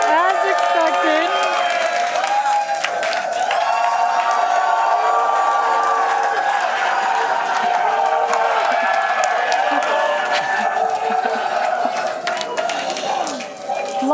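A large crowd of SpaceX team members, including Raptor engine builders, cheers and whoops at a Starship launch viewing, loud and continuous, with shouts and claps layered under close talking.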